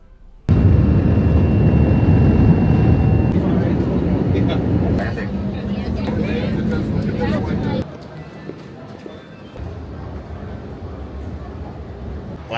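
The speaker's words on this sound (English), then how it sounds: "airport, so you hear all this noise going on in the background" Busy airport boarding area noise, loud dense crowd clamor and hall rumble that drops abruptly to a quieter murmur partway through, with people talking within it.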